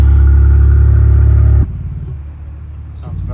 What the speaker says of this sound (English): showing us the sound of their new 3D Design exhaust